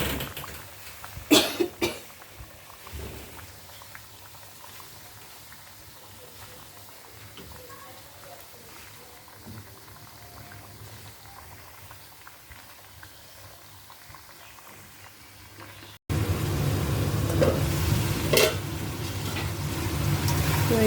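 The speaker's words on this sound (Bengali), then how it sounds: "কষা নিয়ে মাছটা একটু কষাই নেবো এখানে" Fish is sautéed kosha-style in a pan with a soft, steady sizzle. A cough breaks in near the start, and the frying turns abruptly louder and more bubbly near the end.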